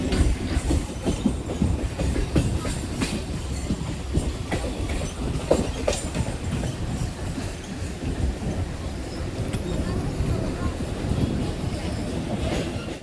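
A train pulls into platform 2 at Naihati station with loud, continuous rumbling and clattering wheels, sharp clicks and rattles rising through the steady roar.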